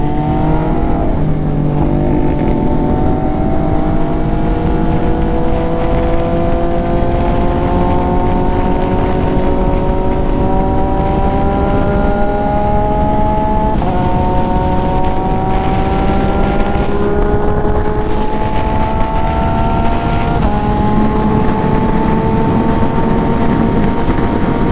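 An MV Agusta motorcycle cruising on the road toward the Circuit of the Americas, its engine droning steadily with gear-change steps and rising pitch as it pulls, loud and continuous with wind noise throughout.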